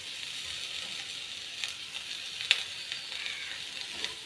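Ground clam meat frying in a chili-powder masala for a clam roast, giving a soft, steady sizzle with a few faint stirring clicks and one sharper scrape near the middle, no voices.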